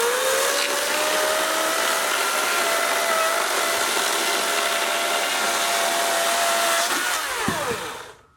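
A chainsaw runs loud and close, a steady high buzzing drone that holds evenly for about seven seconds before its pitch shifts and the engine winds down and cuts off.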